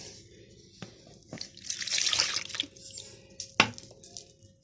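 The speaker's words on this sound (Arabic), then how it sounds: "خلاص هنبدا بقى نحط ايه اللبن الاول" Milk is poured into a bowl for crepe batter, a splashy liquid pour swelling in the middle between sharp clinks and knocks of kitchenware.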